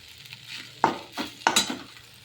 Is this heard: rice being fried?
yes